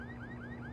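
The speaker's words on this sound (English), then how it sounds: "Why is this one beeping?" An electronic device in Splinter Cell Chaos Theory versus mode beeps in a fast, steady rising chirp pattern, repeating evenly and quietly on its own with a low hum underneath.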